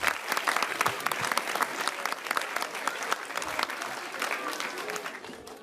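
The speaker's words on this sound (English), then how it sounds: "give yourselves a round of applause for coming out to the Stack Shack tonight" A comedy show audience at the Stack Shack claps loudly and continuously, a dense close burst of applause carrying on for several seconds with a slight fade near the end.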